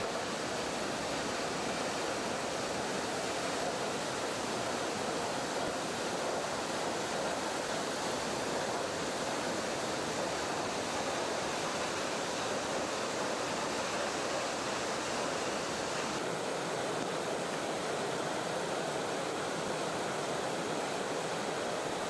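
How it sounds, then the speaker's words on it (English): Middleham Falls, an island's largest waterfall, with water spilling some 60 meters down, gives a steady, loud broadband roar that fills the whole stretch without letup. "Middleham Falls is the island's largest waterfall, with water loudly spilling over the falls some 60 meters down."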